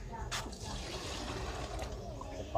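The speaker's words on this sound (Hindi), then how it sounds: "ये 2 डब्बे आगे डाले थे और ये 1 डब्बा और भर रहे हैं, तो ये 3 डब्बे 15 किलो पानी हो जाएगा 12 किलो चावल में" Water pours steadily into a large pot for a 12-kilo chicken biryani, filling measured containers, a continuous splashing rush at moderate distance.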